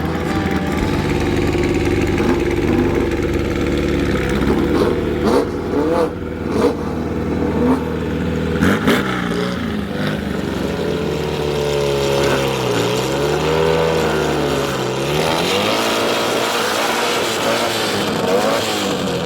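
Drag racing cars rumble and rev at the track, their engine note rising and falling in strong sweeps with loud sustained roaring and shifting pitch, close and continuous.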